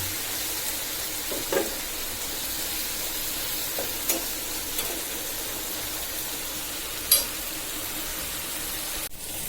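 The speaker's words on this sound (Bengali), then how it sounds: "আমার বরবটি শিম ভাজি একদম হয়ে আসছে।" Yardlong beans fry in a pan with coriander leaves, giving a steady, soft sizzle with a few brief stirring clinks and scrapes spread through the clip and no one speaking.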